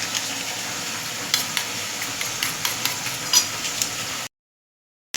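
Potatoes frying in oil in a pan give a steady, close sizzle with small crackles and pops, continuous for about four seconds before cutting to silence.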